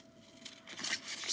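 Paper scraps being cut into a small flower shape, giving soft crisp snips and light rustling that grow slightly louder toward the end, close and alone.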